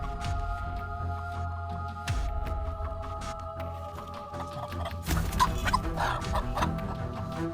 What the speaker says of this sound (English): An extremely dramatic battle between the mother hen and the enemy who intends to harm the chicks.